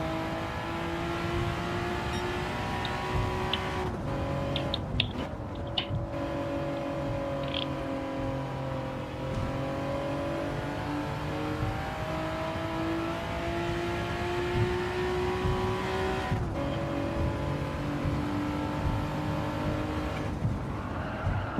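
A modified Honda NSX race car in Gran Turismo 7 drones steadily at high revs throughout, its pitch rising and dipping with gear changes, with a few brief tire squeals and clicks along the way.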